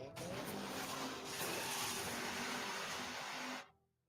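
A car racing in a chase, its engine roaring loud and continuous with tire noise, then cutting off abruptly near the end.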